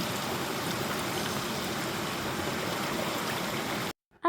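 A shallow stream flows in summer with low water, giving a steady, close rushing wash that runs almost the whole time and then cuts off abruptly near the end.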